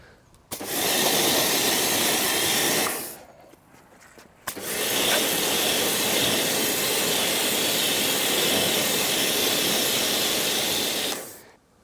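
A jet wash pressure washer sprays a CF Moto Explore motorbike in two long, loud, hissing bursts, the first a few seconds long and the second much longer, with a brief near-silent pause between them.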